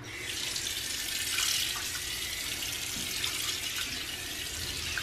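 Water runs steadily from a newly installed faucet into a sink, a close, continuous splashing hiss at moderate level with no one talking.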